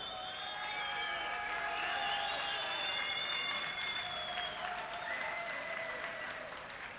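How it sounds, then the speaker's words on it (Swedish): Sustained crowd applause at a 1999 Korprock rock event, loud and continuous with high tonal whistles or ringing drifting over the clapping. "Ge honom en applåd."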